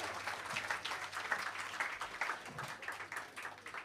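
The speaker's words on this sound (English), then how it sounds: "Big round of applause." Audience applause at a live fundraiser gig in a pub in Clonakilty, a steady wash of clapping from a small crowd, moderately loud and continuous, with no talk over it.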